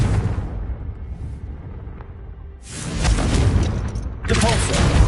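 A Confringo fire spell exploding in Hogwarts Legacy on PS5: low rumble, then two loud broadband blasts with a roaring fiery burst, the second following about a second after the first.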